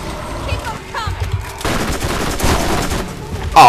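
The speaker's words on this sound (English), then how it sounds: "I'm gonna switch over and use my machine gun for a while" Machine gun fire in the Borderlands video game: rapid bursts of gunshots that grow denser and louder toward the end, with a player talking over them.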